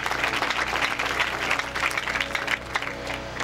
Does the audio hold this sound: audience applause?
yes